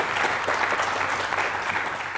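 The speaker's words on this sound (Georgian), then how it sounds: "აპლოდისმენტები" A studio audience at a televised book quiz show applauds steadily, a thick, even wash of many hands clapping with no pause.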